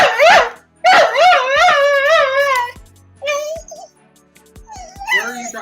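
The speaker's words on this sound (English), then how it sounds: "That's one loud stray dog." A loud stray dog close by lets out a run of high, wavering yelps and whining barks, with short pauses between bursts and a person's voice speaking at times.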